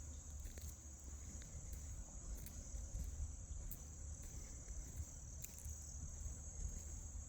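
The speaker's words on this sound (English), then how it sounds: "To hear the crickets" Crickets chirping outdoors at night on a walk: a steady, continuous high-pitched trill with faint rhythmic pulses, moderately distant and quiet over a low rumble of background noise.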